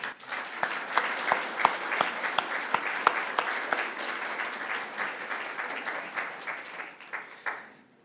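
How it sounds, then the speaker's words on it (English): An audience applauds the board members at a corporate event, a steady patter of many hands with a few sharp, close claps standing out, holding for about eight seconds before tapering off. "please join me in giving a big applause for our board"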